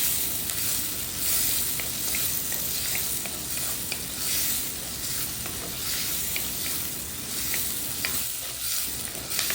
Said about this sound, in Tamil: வெங்காயத்துக்கூடயே நல்லாவே பூண்டையும் வதக்கிடுங்க.